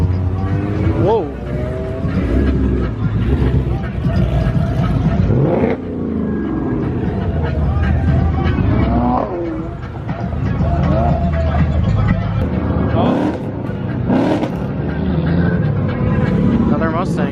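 Modified Ford Mustang S650 pulling away from a car meet, its engine revving loud and close over crowd chatter and voices, with rising and falling throttle surges.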